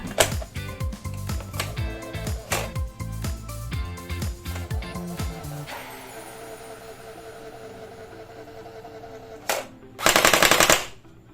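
A TG G36C airsoft rifle fires fully automatic in rapid mechanical bursts, with a brief sharp burst followed by a louder, sustained stream of shots near the end.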